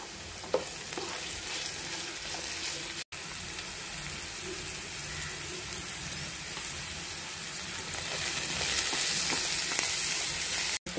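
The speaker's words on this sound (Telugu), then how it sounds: "ఇప్పుడు బఠానీలు ఆలుగడ్డ బాగా ఫ్రై అయినాయి." Peas and potatoes fry with ginger garlic in a pan, giving a constant dense crackling sizzle like rain on a surface, close and unbroken apart from two brief cuts, with no talking.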